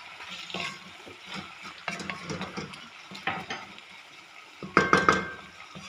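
A spoon scrapes and stirs a spiced curry of garam masala and red chilli powder in a pan, with soft irregular scrapes, a low sizzle underneath, and a sharper metallic clatter of cutlery near the end.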